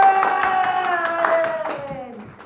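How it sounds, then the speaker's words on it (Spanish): Young children clap together in a preschool classroom, a short burst of scattered applause under a chorus of high voices. "Un aplauso súper grande para todos los soles"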